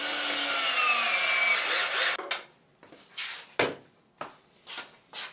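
A drill drives 1.25 inch pocket hole screws into solid cherry wood. A whirring motor runs for about two seconds, followed by scattered knocks and scraping handling sounds of the wood.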